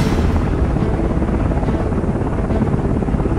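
A passenger drone taxi flying in China, a steady, loud multi-rotor whirring buzz like a helicopter that holds evenly throughout with no talking.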